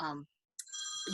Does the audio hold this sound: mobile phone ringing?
yes